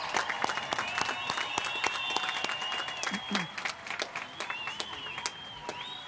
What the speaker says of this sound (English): Let's cheer our graduates on like we have never done before.